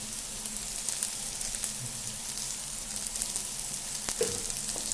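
Beans and carrots fry in a pan with a steady, even sizzle that holds through the whole stretch, with a faint clink or stir now and then and no talking.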